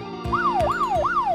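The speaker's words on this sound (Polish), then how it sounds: "A to jest radiowóz, a w środku policjant." Police car siren from a children's cartoon, a loud rising-and-falling wail that repeats three times in quick succession over a steady low rumble, with no talking.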